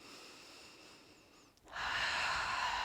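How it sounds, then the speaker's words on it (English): A deep breath drawn in during a slow yoga flow, a soft brief sniff followed by a sustained, fairly loud inhalation close to the microphone, with no talking. "big breath in"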